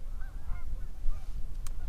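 Several geese honk in repeated nasal calls during duck hunting season, carrying over steady outdoor background noise at moderate distance, with a sharp click near the end.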